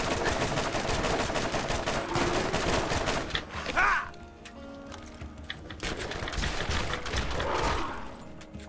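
A submachine gun fires rapid, continuous bursts in the Borderlands shooter video game. The rattling volleys are loud and close, break off for a couple of seconds, then resume, with no talking.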